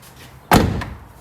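A van door on a 2018 Peugeot Boxer, freshly rehung on its hinges, is swung shut with a single loud, close slam and a brief rattling tail, with no talking.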